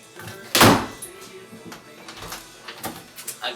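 A closet door opens with a sharp, loud knock-and-swing near the start, followed by softer clunks and light rattles at close range.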